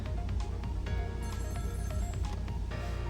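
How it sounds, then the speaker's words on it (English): A telephone rings in the Ghost Trick video game, a thin electronic ring sounding briefly over busy game music. "And now you can hear the phone"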